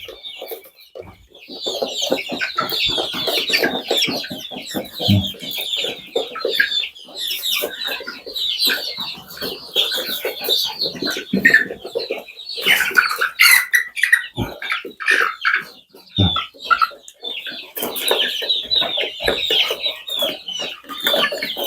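Chickens, including a black hen, cluck and chatter close by in a steady flurry of short repeated calls with occasional louder squawks, sustained throughout with no talking.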